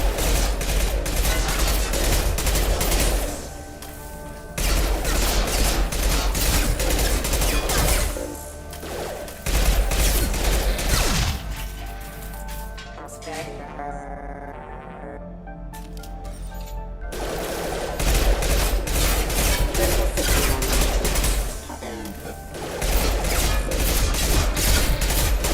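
Sustained volleys of sci-fi weapon fire ring out in Mass Effect Legendary Edition, loud, continuous bursts broken by a few short lulls, with a quieter mechanical stretch in the middle before the shooting resumes.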